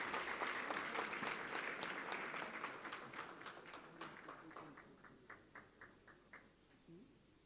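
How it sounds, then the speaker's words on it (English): Round of applause from an audience at a labour department launch event, dense clapping at first that thins out into a few scattered, separate claps fading toward the end. "that round of applause"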